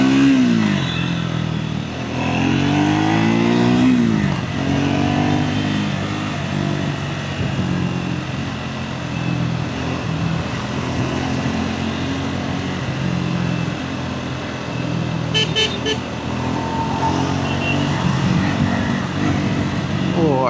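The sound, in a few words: Triumph Scrambler 400X motorcycle engine during test ride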